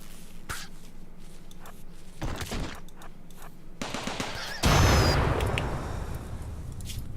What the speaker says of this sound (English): Gunshots and Jesus.